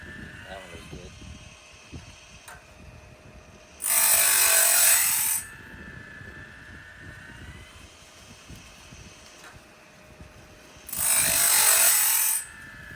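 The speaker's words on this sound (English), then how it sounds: "I gotta lessen how deep it's grinding." A sawmill band blade sharpener grinds the blade in two loud, harsh bursts of about two seconds each, separated by quieter mechanical clicking and ratcheting as the blade advances; a person speaks between grinds.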